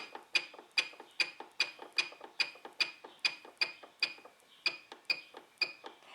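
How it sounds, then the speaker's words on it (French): An automatic sewing machine running steadily, with a regular mechanical clack repeating about twice a second, metallic and close, with no talk over it. "C'est le cas de ma machine à coudre qui est automatique."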